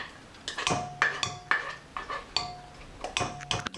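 Metal utensils and dishes clatter in a home kitchen during chocolate cupcake baking, several sharp close clinks and knocks in an uneven rhythm, including a spoon set down on the counter.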